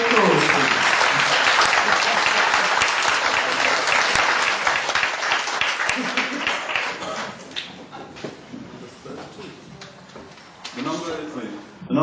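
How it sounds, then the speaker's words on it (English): Loud, full applause from an audience at a panel session on care in the digital age, dense and strong at first and then thinning into scattered claps before a few voices come through near the end. "A big round of applause, please."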